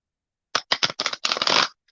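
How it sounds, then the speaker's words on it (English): A deck of playing cards being shuffled by hand in a series of quick riffles and flicks, close and crisp, with a slight pause between bursts and no talking. "I'm shuffling these cards a lot because I don't use them a whole lot"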